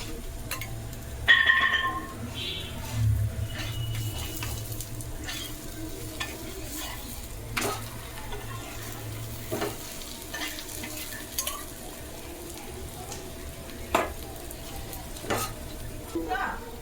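Aloo paratha frying in oil on a pan gives a steady, low sizzle, with scattered clinks and scrapes from a utensil over roughly seventeen seconds and no talking.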